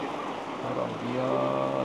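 Rain falls along an Italian coast, a steady broadband wash with a brief spoken word and faint tonal hum mixed in over a couple of seconds.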